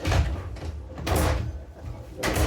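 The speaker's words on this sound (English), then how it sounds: "Closing the door." A door is pushed shut indoors, with several dull, broad thuds and rattles in quick succession, fairly loud and close, and no talking.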